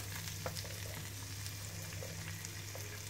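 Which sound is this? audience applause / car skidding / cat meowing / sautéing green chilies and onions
sautéing green chilies and onions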